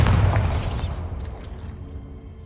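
Bombarda explosion spell in the Hogwarts Legacy video game: one loud booming blast with a crackling, shattering burst at the start, then a rumbling tail that decays over two seconds, with no talk.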